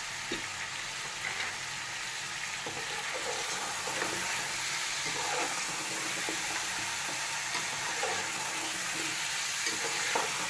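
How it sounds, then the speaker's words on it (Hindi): Beef pieces frying with salt in a pan for nihari give off a steady, continuous sizzle and hiss, fairly close and even, with small popping crackles scattered through it and no talking. "गोश्त को हम लगभग 5 मिनट तक फ्राई करेंगे ताकि हमारे गोश्त की अच्छी तरीके से खत्म हो जाए।"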